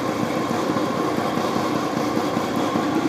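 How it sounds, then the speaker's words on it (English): The larger outboard motor on a 1991 Lund Angler 1600 SC idles steadily close by after starting, a low rumbling pulse with no voices. "Let's get the bigger motor started here."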